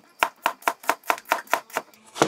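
A knife chops onion on a board: about ten crisp, evenly spaced cuts in quick rhythm, close and clear, with no talking.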